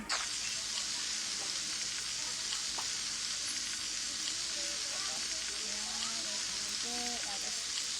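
Bacon frying in a pan gives a steady, dense sizzle throughout, close and constant, with faint background voices and a few small clinks.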